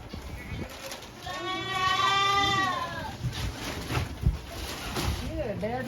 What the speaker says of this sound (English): All the goats are huddled in the shelter out there.